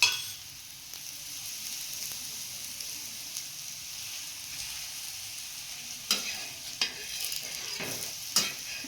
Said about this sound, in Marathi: त्याच्यामुळे ते व्यवस्थित असं दोन्ही साईडला भाजून घेतलं फास्ट गॅस करून